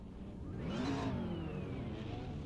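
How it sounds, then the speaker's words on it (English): A car engine, likely a VW GTI, revving once, rising then settling, heard faintly and thinly as if over a voice chat line, with no talk. "You're revving your engine?"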